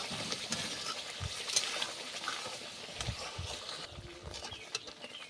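Chopped tomato gets stirred into masala in a pan, soft wet squelches and spoon scrapes over a low continuous sizzle, close and fairly quiet, with no talking.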